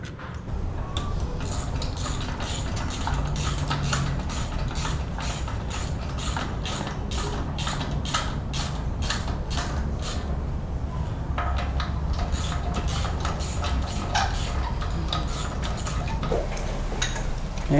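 A mechanic fits a radiator fan on a 2013 Nissan Juke F15 with CVT automatic in a workshop. Rapid ratchet-like clicking comes in long bursts with a short pause, over a steady background hum.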